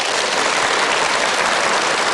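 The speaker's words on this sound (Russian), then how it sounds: "Это аплодисменты Василию Макарычу." Audience applause at a televised interview honoring a late film master, a dense, loud, steady burst of many hands clapping without pause.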